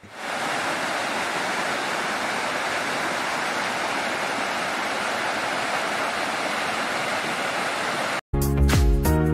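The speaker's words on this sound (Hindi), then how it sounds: "तो ये जो पानी आपको दिखाई दे रही हैं, तो ये टरबाइन के लिए मेन दरिया से ये पानी अलहदा किया गया है।" Water diverted from a main river rushes toward a village turbine, a loud, dense, unbroken roar of flowing water close by, cut off abruptly near the end by a brief burst of music.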